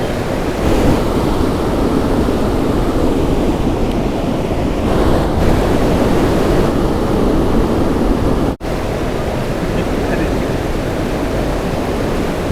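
Loud, continuous roar of Godavari floodwater rushing under a bridge, broad and churning, with wind buffeting the microphone and a brief dropout near the end.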